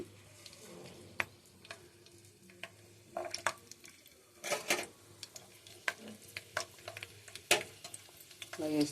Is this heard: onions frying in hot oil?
yes